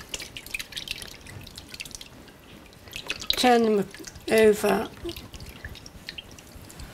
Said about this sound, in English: When I've washed the locks, I then rinse them and I just take them in exactly the same way and swish them about